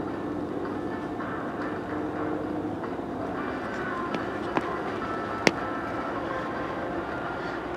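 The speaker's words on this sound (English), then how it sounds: "I think that was train M217 that just went by." A long CSX freight train rolls past near Point of Rocks, Maryland, as a steady broadband rumble with a few sharp metallic clanks and squeaks from the wheels, fairly loud and continuous.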